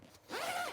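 A zipper on the main pocket of a bag being pulled open, one quick rising zip after a brief fumble, close and fairly quiet with no talking.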